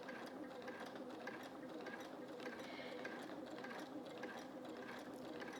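A domestic sewing machine quilting fabric runs at a slow, even pace, its steady mechanical whirr and rapid stitching patter continuous and close throughout.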